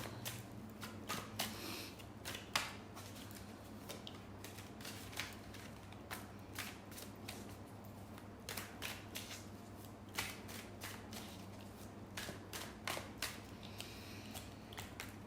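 Tarot cards shuffled over and over in quick crackling riffles and flicks, fairly close, with a faint steady low hum underneath and no talking.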